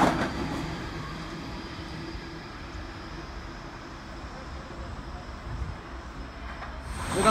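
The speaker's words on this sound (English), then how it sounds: "We've got another train rocking past." A train on a suburban rail line at Burwood rumbles past steadily, its low broadband roar and wheel noise holding throughout at moderate distance with no talk.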